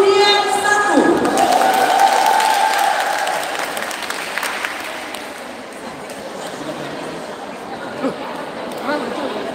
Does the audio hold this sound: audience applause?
yes